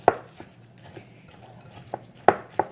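Cookie batter for pumpkin crunch cookies stirred with a spatula in a bowl: a few sharp knocks and clacks against the bowl with soft scraping between, close and without speech.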